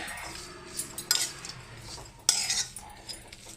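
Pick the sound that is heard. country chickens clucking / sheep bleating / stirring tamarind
stirring tamarind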